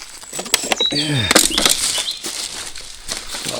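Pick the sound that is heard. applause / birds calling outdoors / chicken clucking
birds calling outdoors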